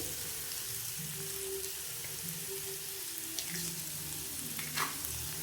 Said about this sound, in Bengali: তারপরে এখানে আমি দিয়ে দেবো দুটো ডিম